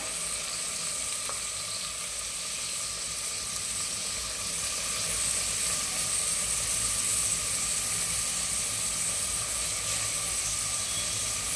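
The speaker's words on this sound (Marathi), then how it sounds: "आपला कांदा फ्राय होतोय तेव्हाच आपण जो कोबी चिरून घेतलाय तो कोबी टाकूया" Chopped onion and cabbage sizzle hard in a pan over a high flame, a loud, continuous hiss that holds steady throughout with no voices.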